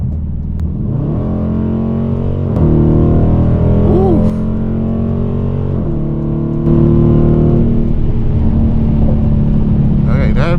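A Dodge Challenger R/T fitted with a Z-Tazer makes a hard dyno pull in track mode, its engine roaring loud and close as the pitch climbs through gear-like sweeps, with steady drivetrain drone underneath.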